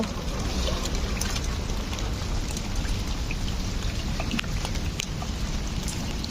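Rain starting suddenly over a green rooftop garden, a steady close hiss of falling drops with occasional sharper drips and splashes, alone without talk.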